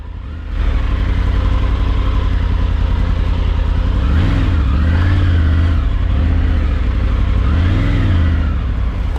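Triumph Tiger 900 adventure motorcycle riding an off-road bush trail, a loud continuous engine drone close to the rider, rising and falling in a few revving swells over rough ground.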